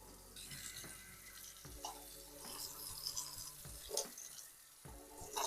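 Warm tap water runs steadily into a sink, splashing and shifting as hands move under the stream; no talking.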